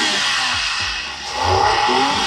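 A Suzuki DA17W engine revs during an RPM check, the pitch dipping and then climbing again as the throttle is worked, loud and close with no talk.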